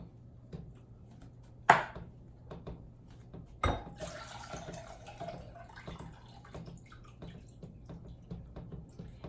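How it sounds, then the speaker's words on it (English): Pineapple juice drained from flipped cans into a single bowl while making frog eye salad: two sharp metallic knocks, then a soft, steady splashing pour, fairly quiet and with no talking. "I'm going to put all that pineapple juice into 1 bowl"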